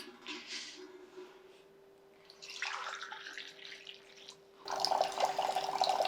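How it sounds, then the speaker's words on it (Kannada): Two glasses of water are poured into a pan in a couple of splashing bursts, separated by a brief quiet gap, with a faint steady hum underneath. "ಎರಡು ಲೋಟ ನೀರು ಹಾಕ್ತೀನಿ"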